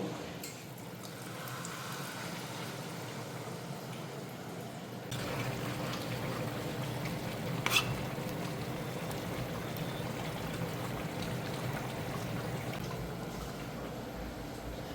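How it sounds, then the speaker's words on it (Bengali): Water poured into a pan of oil-fried spices with potato and young jackfruit: a steady hiss and bubbling rush that grows louder midway, with a brief sharp spatter, continuous and close, no talking. "এখন আমি জল ঢেলে দেব"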